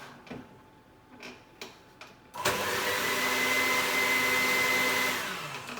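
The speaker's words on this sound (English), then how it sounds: "now that we've got all our egg whites in the mix master, let's turn it on" An electric Mixmaster stand mixer switches on and whips egg whites at a loud, steady whir with a faint tonal whine, running continuously for a few seconds before winding down, preceded by a few quiet clicks.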